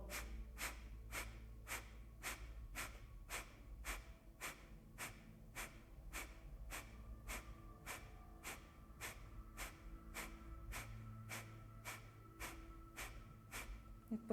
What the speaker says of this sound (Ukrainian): Ми робимо короткі вдихи і такі м'які, але пульсуючі, дуже інтенсивні видихи.